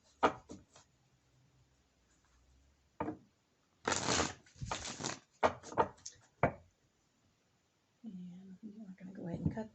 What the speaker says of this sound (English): These are going to be the cards I'm shuffling right now for you for the overview of the entire month.